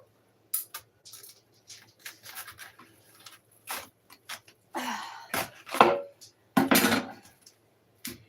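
A kitchen knife chops into a cabbage core in a run of crisp, uneven thunks and crunches on a board, louder and denser near the end; close, with no talk.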